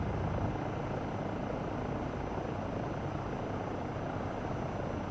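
Helicopter in flight in the MSFS 2024 simulator, climbing at about 75% throttle: a steady, loud, dense rotor and turbine roar with heavy vibration, continuous and unchanging, with no voices.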